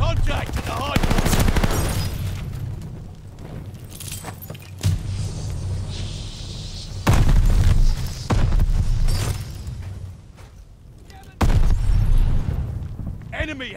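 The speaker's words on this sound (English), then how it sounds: "Incoming grenade." Grenade and gunfire blasts in Call of Duty: Vanguard during a hardpoint match, several loud booms and bursts separated by quieter stretches, with announcer voices talking in between.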